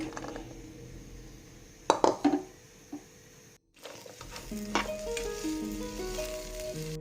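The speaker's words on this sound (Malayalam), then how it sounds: "ഈ വെണ്ടയ്ക്ക ഒന്ന് വറുത്തെടുക്കാം." Hot coconut oil sizzles steadily as okra fries in a pan, broken by a few sharp clatters of a utensil against metal and a brief pause before sizzling resumes.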